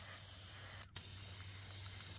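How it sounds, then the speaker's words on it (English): A steady spray of line conditioner onto fishing line, two close hissing bursts separated by a brief pause, loud and alone with no talk. "I spray this on my line before I start fishing, and it makes the line much more manageable."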